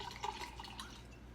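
Pink Moscato wine is poured into a glass in a home kitchen, making a faint, brief trickle and splash with a low background hum.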